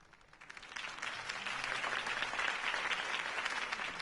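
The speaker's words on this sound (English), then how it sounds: "could have heard that applause" A crowd applauding in the video game Batman: The Telltale Series, building quickly from quiet to a steady, dense roar of clapping that holds for several seconds.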